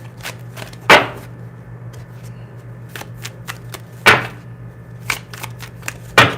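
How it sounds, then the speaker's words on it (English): Tarot cards being shuffled, with sharp riffling bursts at intervals between softer taps and card handling over a low steady hum, close and fairly loud, with no speech. "But I'm still shuffling now."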